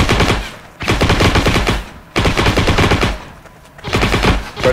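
An MP40 submachine gun in a video game fires in three long automatic bursts of rapid rattling shots, close and loud, separated by short pauses.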